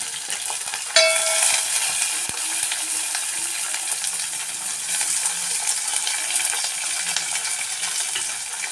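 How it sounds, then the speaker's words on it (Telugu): Onions and green chillies frying in a pan, with a bright steady sizzle throughout, a metallic clink near the start and occasional soft stirring scrapes beneath the hiss. "ఇవి కొంచెం వేగనిద్దాము."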